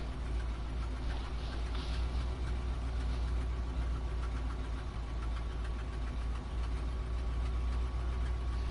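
A truck engine idles in the video game SnowRunner, with a steady low rumble and a faint knocking texture that runs unbroken and fairly quiet throughout.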